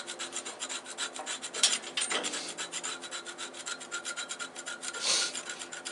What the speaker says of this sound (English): All I'm doing is knocking the heavier pieces of sawdust that got trapped in there, or sap